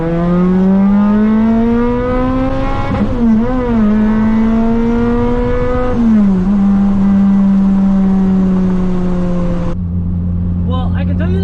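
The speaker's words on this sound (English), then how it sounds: "when we come into second and I'm accelerating" A supercharged Toyota Celica on nitrous accelerates hard through the gears, its engine note climbing loud and steady, dipping at each gear change before rising again, heard from inside the car.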